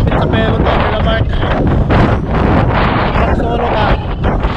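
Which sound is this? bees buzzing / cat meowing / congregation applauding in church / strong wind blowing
strong wind blowing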